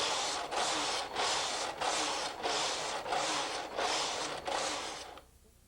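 A Brother KH-930 knitting machine carriage sweeps back and forth in about seven steady broadband passes, each a loud rasping whoosh with brief gaps between, before the clip falls quiet at the end.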